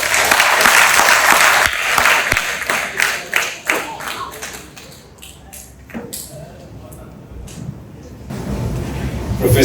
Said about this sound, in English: Let us give him the loudest round of applause.